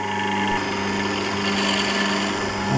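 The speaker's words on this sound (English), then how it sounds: "That's the drill bit just touching the wood" A steady mechanical hum and whir from a drill bit just touching an olive log, in a constant droning tone with a slight rise in loudness near the end.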